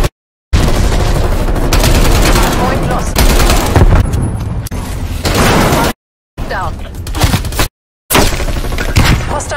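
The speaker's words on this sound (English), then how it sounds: "Hostile sentry turret." Hostile sentry turret firing in a multiplayer Hardpoint video game match, loud bursts of automatic gunfire broken by brief silent gaps, with booms and mechanical clatter.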